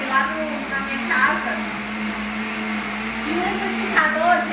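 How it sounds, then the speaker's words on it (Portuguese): A steady motorized whirring hum of a blender mixing ingredients for chocolate mousse, continuous and fairly close, with some background voices over it. "coloquei os ingredientes aqui no liquidificador. Vou levar pra bater por 3 minutinhos."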